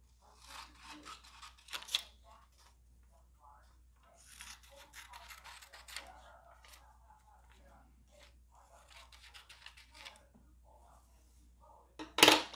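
Scissors snip and rustle through thin paper while a tattoo stencil is cut out, in short crisp bursts with quiet gaps, close up, ending in a louder crinkle of paper.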